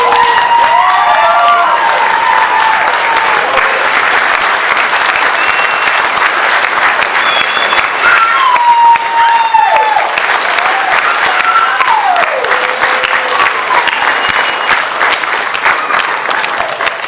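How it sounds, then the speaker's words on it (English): Wedding guests applaud at a reception, a loud, steady roar of clapping from a crowd with some cheers and whoops mixed in, sustained throughout. "can we give a round of applause to Ty and Cass Cunningham?"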